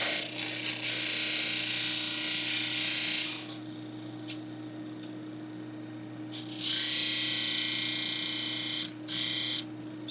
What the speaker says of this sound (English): So I'm turning off the sander now